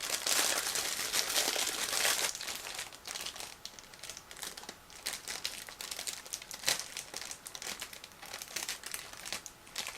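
Steady crinkling of a sealed plastic bag from a Miniart 1/35 T-55A model kit being pulled open, close and fairly loud, with dense crackles throughout and a few sharper rustles.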